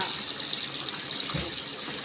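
Water gushes steadily into a washing machine full of clothes during its final fill cycle, a continuous broad rushing noise heard close up.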